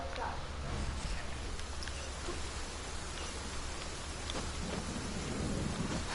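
Steady, dense rainfall pours in the video game Genshin Impact, a continuous hiss with a low rumbling undertone and faint voices in the background.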